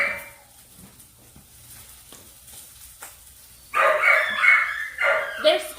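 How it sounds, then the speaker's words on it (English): Puppies break into a cluster of sharp, yapping barks close by after a quiet stretch, the bursts repeating over the final two seconds. "if you hear puppies in the background."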